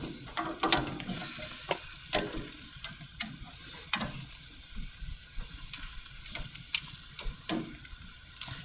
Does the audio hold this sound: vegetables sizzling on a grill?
yes